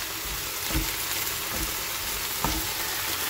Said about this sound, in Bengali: এটা ভাজা ভাজা হচ্ছে শাকটা।